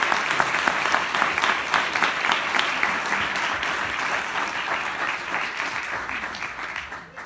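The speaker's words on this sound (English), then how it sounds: "Let's have a round of applause for our panel." An audience applauds a panel after a complete-streets panel discussion, producing a dense, sustained wash of clapping from a crowd that gradually tapers off at the end.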